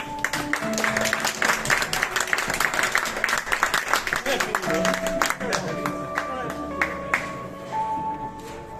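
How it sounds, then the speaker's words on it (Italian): Applause from the audience at the opening of Stefano Cianti's art exhibition in Viterbo, a steady patter of many hands clapping for several seconds, with voices talking over and around it. "applauso per Stefano"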